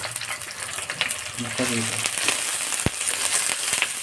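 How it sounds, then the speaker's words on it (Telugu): Onion, green chili and curry leaves sizzle steadily in hot oil as a tempering for an Andhra-style fish curry, a continuous close crackling hiss with a brief sharp knock partway through. "ఉల్లిపాయ, పచ్చిమిర్చి, కరివేపాకు, ఈ తాలింపులు ఇలా వేగుతుంటే మంచి వాసన వస్తుంది."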